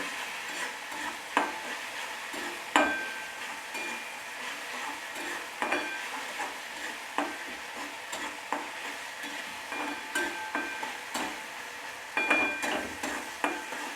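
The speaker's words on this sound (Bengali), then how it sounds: "দিয়ে এটা ভালোভাবে আমি 1 মিনিট আবারও কষিয়ে নিচ্ছি।" Masala with Kashmiri chilli powder being stir-fried in a pan for cauliflower curry, gentle sizzling under repeated spatula scrapes and taps at an uneven rhythm.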